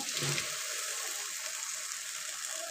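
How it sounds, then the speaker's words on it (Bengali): Onion, garlic and chopped green chili fry in a pan for a prawn dish, giving a steady broad hiss from start to finish with a brief louder burst near the beginning and no talking. "এখানে আমি পেঁয়াজ, রসুন, কাঁচা লঙ্কা কুচি এইভাবে করে ভেজে নিচ্ছি।"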